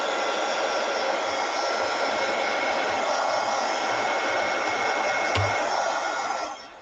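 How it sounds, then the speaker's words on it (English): A heat gun blows hot air in a steady, loud, continuous whoosh close by while softening a sticky finish on a Dollar Tree craft project, cutting off near the end. "Heat gun."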